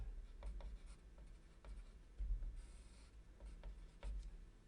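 A pencil scratches across paper while working a math problem, soft intermittent strokes and taps in short bursts, close and quiet, with no talking.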